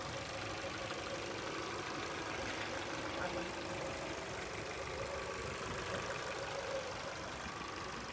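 A 2005 Ford Focus 1.6 LX sits idling, a steady even engine drone heard up close, unchanging throughout with no talking.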